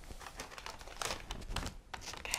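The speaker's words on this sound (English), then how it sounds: "There's also a brown paper bag." A brown paper lunch bag crinkles and rustles steadily at close range, with sharper crackling bursts as it is handled, and no speech.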